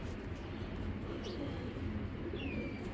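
Giribaz pigeons cooing softly in a loft, with a couple of brief higher chirps over a steady low background hum; no one speaks.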